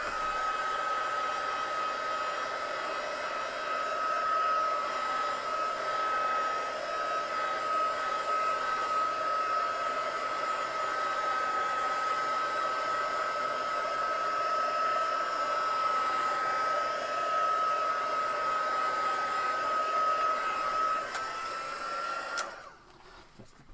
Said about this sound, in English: And heat dry this again.